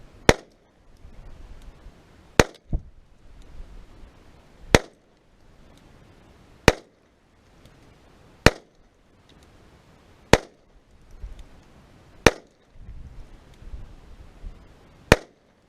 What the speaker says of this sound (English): did a little bit of shooting. I think I shot 10 rounds.